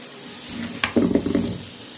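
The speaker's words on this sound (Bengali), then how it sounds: "আর একটু কড়া করে ভেজে নেব" Small potatoes fry in hot oil for a chicken curry, giving a soft sizzle that swells into a louder burst of crackling bubbling mid-clip before settling back to a low hiss, close up with no talk.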